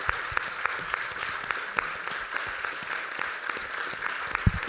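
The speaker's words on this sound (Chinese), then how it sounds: "那我想要请大家给他热烈的掌声" An audience at a meditation teaching breaks into sustained, even applause, a dense patter of many hands clapping at moderate volume throughout, with no talking.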